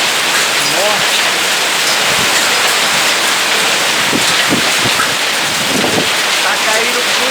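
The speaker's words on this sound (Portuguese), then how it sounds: "Tá caindo muito temporal aqui em São Paulo" Heavy rain with hail pours in a dense, loud, continuous hiss during a storm in São Paulo, with scattered sharper impacts, and voices talk faintly underneath.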